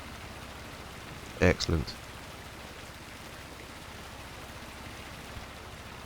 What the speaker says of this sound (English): as soon as it stops raining, I'm going to want to start spraying that